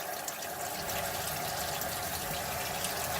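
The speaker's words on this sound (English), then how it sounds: "So we just rinse it off real quick." Aquarium canister filter media from a Polar Aurora filter rinsed under a running tap, giving a steady, close rush of gushing water throughout.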